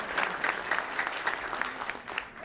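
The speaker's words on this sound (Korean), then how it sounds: "다 박수 한번 격려합시다." Applause from a church congregation at a New Year greeting gathering, a few seconds of moderate clapping with distinct individual claps standing out, easing off toward the end.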